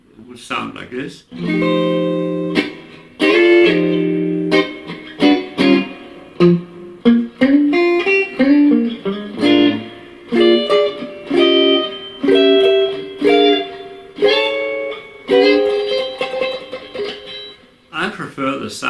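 Electric guitar playing blues chords with a pick, the picked chords ringing with clear harmonic tones in a steady phrase of struck and sustained voicings, close and alone with no talk.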